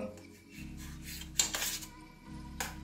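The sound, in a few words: knife cutting boiled eggs into small pieces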